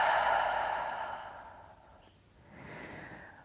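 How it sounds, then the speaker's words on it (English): A long, soft exhale during a gentle yoga flow, breath rushing out audibly at first and fading away, followed by a quieter trailing breath, close to the mic with no speech. "And then a long breath out."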